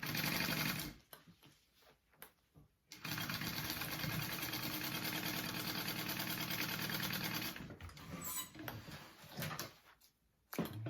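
A sewing machine stitching two vinyl pieces together, running close in fast continuous bursts: a short run, a pause, then a long steady whir for several seconds, followed by shorter stop-start runs.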